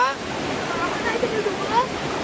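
A village river flows steadily near a small weir, a broad rushing wash that stays constant and close, with faint indistinct voices underneath.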